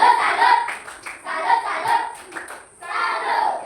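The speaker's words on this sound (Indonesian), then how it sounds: "Tepuk tangan untuk kelompok ini." A classroom of students claps for a fellow student group in three bursts of quick, rhythmic hand clapping, with brief pauses between bursts and children's voices mixed in.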